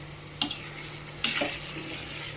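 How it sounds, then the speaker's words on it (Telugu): Ivy gourd (dondakaya) fry sizzles steadily in a pan, a soft constant hiss broken by two brief scraping stirs, close and alone without talk. "ఇంక ఇది కొద్దిసేపు వేగాలి."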